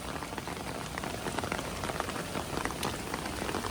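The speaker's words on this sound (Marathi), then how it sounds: "आणि पाऊस जोराचा चालू झाला आहे" Heavy rain pours down steadily, a dense hiss of drops hitting surfaces close by, with no voices.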